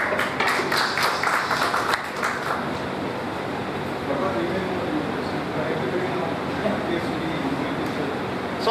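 Round of applause from an audience at a medical educational meeting in Mumbai, dense steady clapping filling the whole stretch, with scattered sharper claps early on and a constant wash of hand noise throughout.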